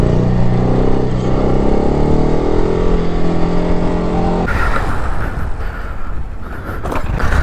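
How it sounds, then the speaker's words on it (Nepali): An NS motorcycle engine roars loud and close during a first wheelie attempt, holding a steady drone before the sound abruptly shifts into a rougher, noisier revving. "म फर्स्ट टाइम एनएसमा हुली ट्राई गरिरहेको छु"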